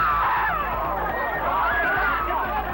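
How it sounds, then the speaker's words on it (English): A crowd shouts and screams moments after the shooting of Robert Kennedy, a dense babble of agitated, overlapping voices close by, with no pause. "lots of people shouting."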